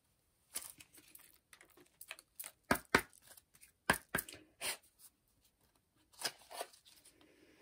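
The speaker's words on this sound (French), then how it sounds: "je vais, comme d'habitude, tirer une dernière carte pour avoir un conseil sur ce tirage" Tarot cards being shuffled and one drawn, a quiet run of soft papery riffles and crisp slaps in short bursts close by, with no talking.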